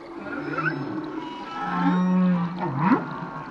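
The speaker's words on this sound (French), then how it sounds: "j'écoute un chant de baleine à bosse que j'ai enregistré dans le parc marin de Mohéli, au large des îlots." Humpback whale song recorded underwater in the Mohéli marine park off the islets, with moaning tonal calls that slide and swoop, a long low sustained note in the middle and a rising upsweep near the end.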